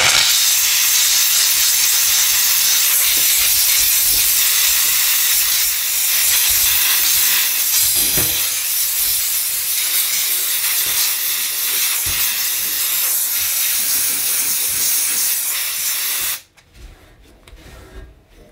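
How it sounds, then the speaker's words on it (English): A Dupray Neat steam cleaner with a nylon brush works over stove pan supports, a loud, steady hiss of steam running nearly without break with faint scrubbing beneath, then cutting off abruptly to near quiet. "I can use the steam with the nylon brush on the pan supports"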